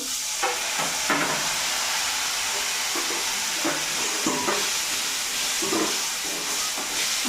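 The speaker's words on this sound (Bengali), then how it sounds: "মশলাটাকে ভালো করে কষিয়ে নেব" Spiced masala with ground cumin, garam masala and a little water frying in a pan, a steady close sizzle and hiss with soft stirring scrapes throughout.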